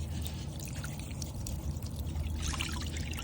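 Water sloshes and trickles inside a minnow bucket as it is shaken to work dog food loose, a close, continuous splashing with no voices.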